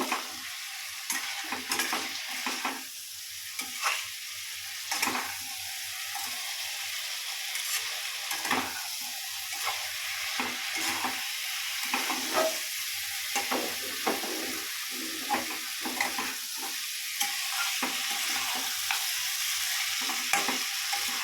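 Small potatoes and tomato frying in a pan with little oil, a soft steady sizzle broken by frequent scraping stirs of a spatula, close and alone.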